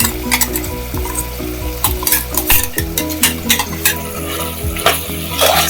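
Green masala paste of ground herbs frying in a pan with kaleji, a loud close sizzle under repeated spatula scrapes and metallic clatter as it is stirred.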